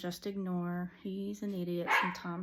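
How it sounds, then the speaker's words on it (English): A pet dog barks several times indoors on a morning at home, its sharp barks coming in short repeated bursts while someone talks over them. "If you hear my dog barking in the background,"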